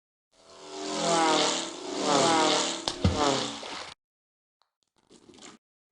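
A propeller plane in the Flipper video game revs up for takeoff, a loud droning engine with a wavering pitch that swells twice, a sharp knock near the middle, then cuts off to near silence and a brief faint burst.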